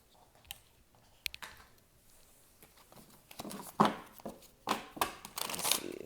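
Tarot cards being shuffled: soft riffles and flicks that start sparse and faint, then come as louder, quicker snaps of cards close by toward the end.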